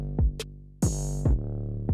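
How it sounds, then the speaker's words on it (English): An 808 bass run through a distortion plugin in an Ableton Live beat, deep sliding bass notes with a grittier, buzzy edge, under snappy kicks, a hi-hat tick and a bright crash over a couple of seconds. "And with the distortion, it's just a little grittier."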